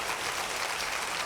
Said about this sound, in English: can we give her a round of applause for her years of leadership and excellence?